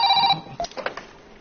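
A cartoon telephone rings in a short electronic trill lasting under half a second, then quieter clatter follows.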